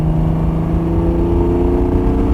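Steady broadband roar inside an old Triumph TR6 convertible on the move, wind buffeting over the open cabin mixed with a low engine drone, loud and continuous with no voices.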